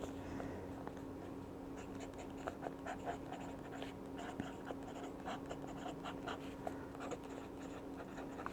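Extra fine nib fountain pen writing on notebook paper, faint close scratching in small irregular strokes over a quiet background hum.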